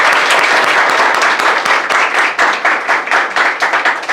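Loud, close applause from a room of schoolchildren clapping vigorously for a student who topped the CBSE exams, fast dense claps with a slightly uneven rhythm.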